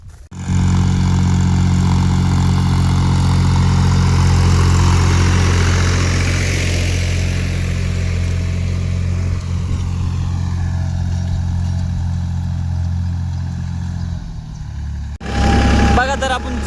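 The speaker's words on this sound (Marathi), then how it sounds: "हनुमान चालवतो ट्रॅक्टर" A tractor engine driven out to the fields, rumbling steadily up close with a deep, even drone for about fifteen seconds before cutting out, followed by a brief clatter.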